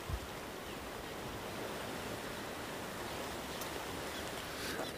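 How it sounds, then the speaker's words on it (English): Deep floodwater current whirling under a bridge after severe rain storms, a steady broadband rush of churning water heard from above, loud and continuous with no voices. "You can see the current over here just a whirling."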